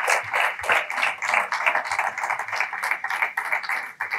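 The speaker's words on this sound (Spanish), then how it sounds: "denle un aplauso al Rey bendito" Congregation applauding at a Spanish-language church service in Maryland, a dense steady patter of many hands clapping for several seconds, fairly close and loud, with no voices over it.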